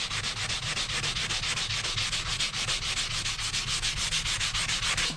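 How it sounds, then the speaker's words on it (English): Hand sanding scuffs the painted body panel of a Tesla before priming, a loud, close, rapid rhythmic rasp of steady back-and-forth strokes that runs continuously with no speech. "we're going to go ahead and pretty much just like scuff the top here."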